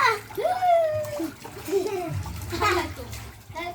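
A child splashes while swimming in cold water, with repeated close splashes and sloshing under excited children's voices and adult talk.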